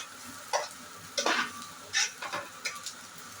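Carrots sautéing in a pan for gobi fried rice: soft sizzling with a handful of quick, separate spatula scrapes and stirs, close and fairly quiet, with no talking.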